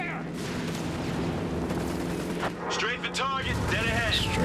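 Aircraft strafing gunfire rakes the ground in a Company of Heroes 3 battle, a dense rattling barrage with booms, while a commentator's excited voice talks over it.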